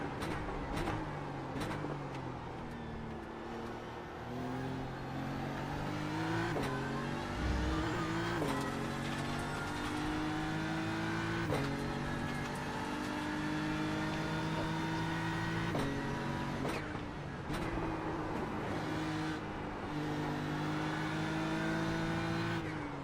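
GT3 race cars in a sim racing game, Pro-Am class: a continuous engine drone that climbs through the revs, with sharp breaks at each gear shift, steady and loud throughout, no talking.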